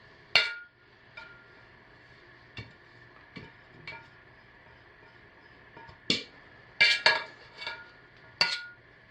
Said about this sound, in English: I'm going to scrape this out because I'm finished using this pot